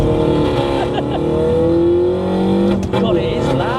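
A custom widebody Mini JCW drives along with its engine and exhaust loud and close, revs rising and falling in smooth sweeps, while people talk inside the cabin.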